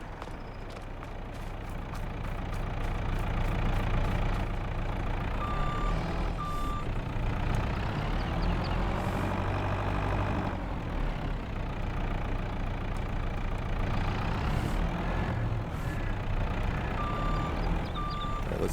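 In the Farming Simulator 22 video game, a tractor engine idles and revs steadily while intermittent reversing beeps sound as it backs into a parking spot; the engine grows louder after the first couple of seconds and stays near and continuous.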